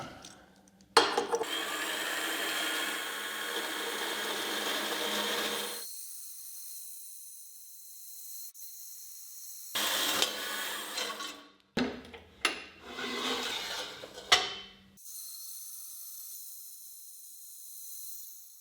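Power saw cutting wood pieces to length against a clamped stop on a table, loud whining cuts in several bursts separated by silent gaps, the later cuts shorter and choppier.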